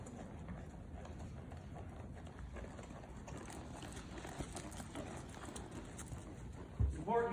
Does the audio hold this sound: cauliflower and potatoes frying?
no